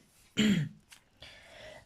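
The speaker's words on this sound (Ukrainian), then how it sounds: "Вибачайте за кашля" A single short, throaty cough up close, followed by quieter breathy throat sounds.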